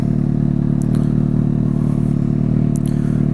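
A Kawasaki ZX6R with a loud TOCE undertail exhaust idles with a steady, deep, throbbing burble that stays close and even, broken by a few sharp mechanical clicks.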